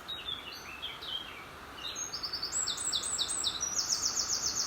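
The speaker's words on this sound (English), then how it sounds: "The bird song around me here is absolutely incredible." Dense birdsong fills a wooded gorge valley with a stream, several birds trilling and chirping in rapid repeated phrases over a steady rushing-water bed, moderately near and continuous.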